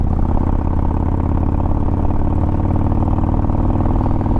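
A Harley-Davidson motorcycle engine running in sport ride mode with light throttle, giving a loud, steady, close-up rumbling drone with a fine pulsing beat and no clear rise in pitch.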